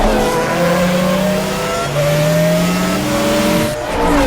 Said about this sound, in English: you get to listen to the great sound effects of these cars.